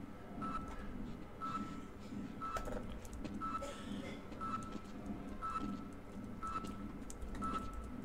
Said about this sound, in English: I hear beeping. Beeping usually isn't good.